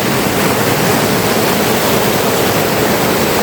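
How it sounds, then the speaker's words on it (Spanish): Waterfalls at the source of the Cuervo river roar in a steady, dense broadband rush with no pauses or voices. "para ver las cataratas más cerca"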